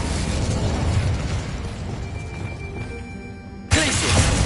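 Incendio fire spell from the Hogwarts Legacy video game: a dense roaring, crackling fire burst that fades over a few seconds, then a sharp fresh blast erupts near the end.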